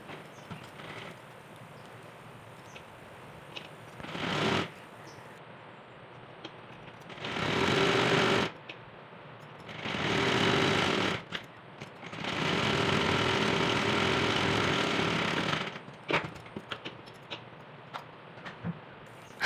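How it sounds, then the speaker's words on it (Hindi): Sewing machine stitching a katori blouse, running in several separate bursts of steady mechanical whirring, close and fairly loud, with quiet pauses and small handling clicks between runs and no talk. "अब हम इसकी इस तरह से सिलाई करते हैं।"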